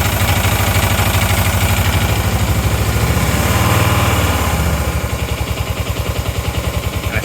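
An engine runs rough and uneven under throttle, then sags and falters as the throttle is released, its steady low throb loud and close throughout.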